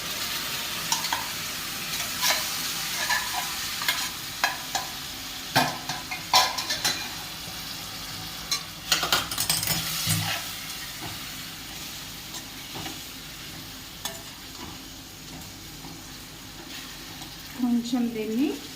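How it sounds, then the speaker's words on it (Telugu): Boiled chicken liver fries in oil in a pan, with a steady sizzle and repeated scraping stirs and clinks of a utensil throughout, fairly close and loud. "కొంచెం దీన్ని ఆయిల్లో ఫ్రై చేసుకున్నాం."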